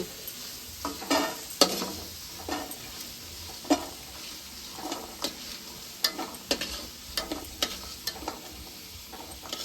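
Potato bhaji sizzling and frying in a pan, a steady soft hiss broken by irregular stirring scrapes and light clinks, close and fairly quiet with no talk.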